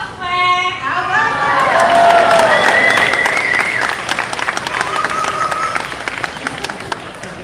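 Applause and cheering from a crowd at Disney's Animal Kingdom after a child sings, steady clapping with shouts rising and then fading over several seconds, a few voices calling out on top.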